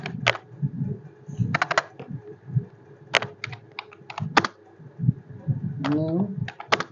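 Crisp clicks of computer keyboard typing in irregular bursts, close and clear, under someone talking throughout.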